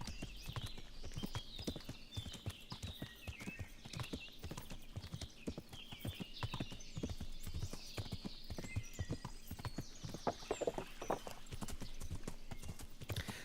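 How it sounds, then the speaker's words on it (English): Horse hooves gallop across the countryside in the video game Kingdom Come: Deliverance, a rapid, steady rhythm of clip-clop beats, fairly close and continuous with a faint snort now and then. "Some great horse sound design, by the way."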